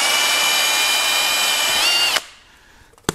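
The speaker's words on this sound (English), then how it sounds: "So always mark on the back and drill from the back." A power drill fitted with a 4.5 to 5 mm bit bores through a vehicle number plate from the back, giving a loud, steady high whine for about two seconds before stopping abruptly, followed by a faint click.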